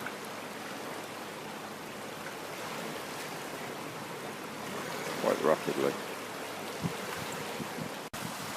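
Water rushes steadily into a filling canal lock chamber as a steady broadband roar that persists throughout, with a brief spoken comment partway through.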